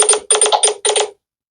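A Nothing Phone 2a ringtone preview plays four short bright chiming bursts in a quick uneven rhythm, clean and close, then stops into silence.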